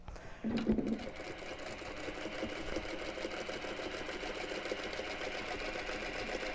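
A sewing machine stitching along the selvage edge of fabric, a steady close mechanical whir with a fast rhythmic needle clatter after a brief louder start, running continuously.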